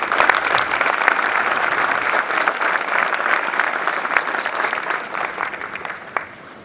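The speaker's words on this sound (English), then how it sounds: "A round of applause for them, if you would, please." Applause from the crowd at an LAPD police recruit graduation ceremony, a loud sustained burst of many hands clapping that thins and fades toward the end, with a few last claps.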